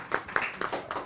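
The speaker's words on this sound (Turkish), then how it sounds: "Çalın abi alkışlarınızı" A small scattered round of hand claps at a Yörük gathering, a few sharp, fairly close claps landing unevenly over about a second.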